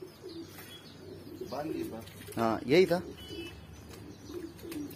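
Soft pigeon coos repeat close by, while a person speaks briefly over them.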